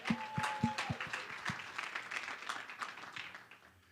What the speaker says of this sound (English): A round of applause to you and to those people who are supporting you as well.